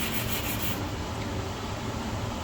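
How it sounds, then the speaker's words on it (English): Carbon steel sample being sanded flat to remove surface rust, a steady continuous abrasive rubbing that runs the whole time, close and fairly loud with no talking. "So sand it, okay, to have a flat surface."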